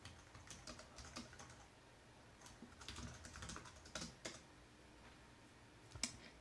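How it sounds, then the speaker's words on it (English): Someone types on a computer keyboard in a steady run of light, uneven clicks and taps, close by and with no talk over it. "let me type that out"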